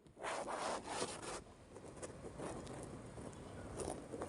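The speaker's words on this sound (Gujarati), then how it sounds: "હવે લોટને આપણે એકદમ સરસ રીતે ઘી સાથે મિક્સ કરી દઈશું" Coarse urad (black gram) flour being stirred into hot ghee in a pan over a medium flame, giving a steady close gritty scraping and rubbing with soft sizzle, stronger in short strokes at first and then continuous, with no talking.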